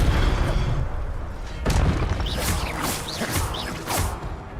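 A Protego shield spell is cast in a wizarding video game. A heavy magical boom and whoosh land first, then come rising shimmering sweeps and rumbling impacts, all loud and close.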